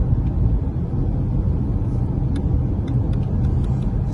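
A Jaguar S-Type car driving with a gearbox selector fault, heard as a steady, loud, close rumble of engine and road noise with a few faint ticks and clicks above it.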